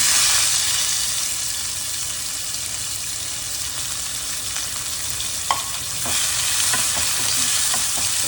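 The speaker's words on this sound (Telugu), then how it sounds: "ఇప్పుడు మనం కట్ చేసి పెట్టుకున్న ఆనియన్ వేస్తున్నాను" Chopped onion goes into hot oil already holding fried cashews and tempering spices, sizzling loudly and steadily with a few light stirring clicks near the end and no talk.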